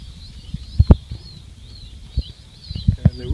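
A young pheasant chick at about four weeks old shakes water off its feathers after drinking, giving a few brief soft flutters and rustles of wings close by, with faint chirping in the background.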